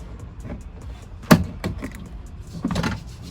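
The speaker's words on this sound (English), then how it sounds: "pop the little door handle right out" A plastic exterior door handle pried out of a Honda CR-V door panel: a sharp close snap followed by a few lighter clicks and a scraping rattle, with no talking.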